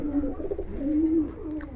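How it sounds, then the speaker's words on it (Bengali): Giribaj pigeons coo in a close, steady low murmur, a continuous run of soft rolling calls lasting the whole stretch with no talk over it. "মাশাআল্লাহ, খুব সুন্দর কবুতর।"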